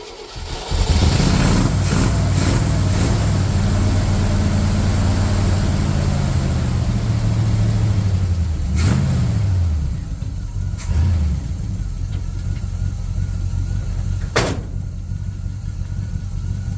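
A 1966 GMC pickup truck engine, low on fuel, runs rough and revs up loudly near the microphone, then settles into a steadier idle with a few sharp blips of throttle.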